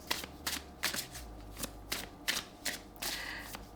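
Oracle cards being shuffled by hand, a close, steady run of papery riffling bursts repeating about twice a second, with no voices over them.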